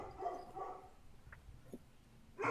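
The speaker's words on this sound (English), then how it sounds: "Can you hear that? A dog." Dog barking faintly in the distance indoors, several low muffled barks with a louder one at the end.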